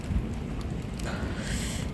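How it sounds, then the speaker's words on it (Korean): A thunderstorm with steady, heavy rain, a dense wash of noise with low rumbling thunder and a brighter gust near the end, heard from a rooftop garden of succulents. "근데 갑자기 번개가 치고 천둥이 쳐서 무서워서"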